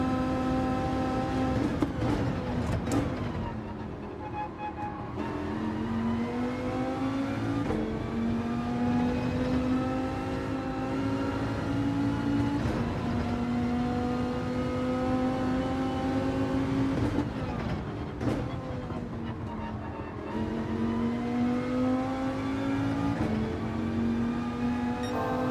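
A Viper race car in Gran Turismo 7 drones through a sustained engine note that climbs through the gears, dipping briefly at each shift before rising again, steady and loud throughout a race lap.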